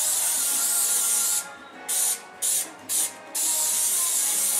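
A broad hissing cooking-oil spray coats food close by, running steadily, breaking into three short bursts, then resuming as a continuous spray.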